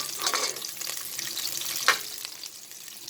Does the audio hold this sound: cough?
no